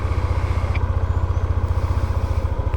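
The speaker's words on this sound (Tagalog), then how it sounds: "samahan nyo ako na ipalinis natin tong motor natin. Painitin ng konti." A motorcycle engine, a Honda CB150X, idles steadily while warming up, its low rhythmic chugging close and loud and alone without talk.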